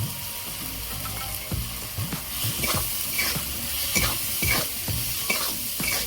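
Grated coconut fries in a pan as a spoon stirs it, a soft sizzle under irregular scraping and clattering strokes, close by and without speech.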